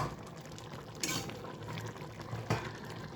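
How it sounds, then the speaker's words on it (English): Beans and plantain pottage simmering in a covered pot, a soft, low bubbling with faint liquid gurgles and two brief knocks or lid clatters. "so I'll just cover and simmer for a few seconds"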